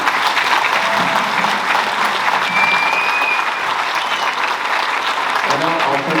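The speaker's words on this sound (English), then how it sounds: "So one more round of applause for our seniors." Sustained applause from a school concert audience honoring graduating seniors, dense steady clapping throughout with a faint murmur of crowd underneath.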